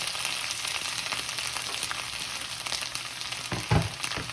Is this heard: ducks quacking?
no